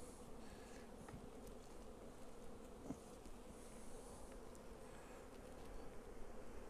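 Honeybees crawl over the frames of an open hive during a split for swarm control, producing a steady, dense, close buzzing hum that continues without pause.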